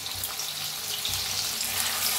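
Crushed garlic and chili fry in hot oil in a kadhai, giving a steady, dense sizzle and crackle close by with no talking.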